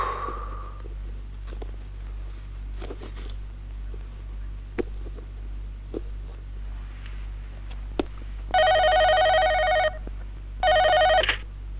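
A telephone rings late at night in two loud electronic bursts near the end, after a quiet room with a low steady hum and a few faint footsteps and knocks.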